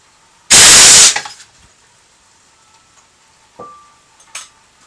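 A homemade steam gun fires once with a loud, harsh blast of hissing noise lasting about half a second, followed by fading rattles and two fainter clanks and hisses.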